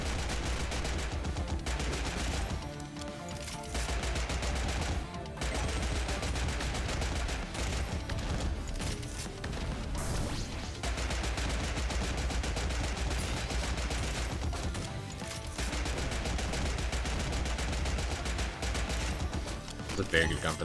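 Rapid gunfire bursts from a gun in a video game fight in the Critadel, dense repeated shots and mechanical clatter filling the whole stretch, with short gaps, under game sound and occasional talk.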